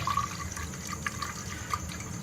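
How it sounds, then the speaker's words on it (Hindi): Ground mint and lemon juice is strained through a sieve, a soft, close trickle of liquid with faint drips and splashes running steadily for a couple of seconds. "हम इसको छन्नी से छान लेंगे।"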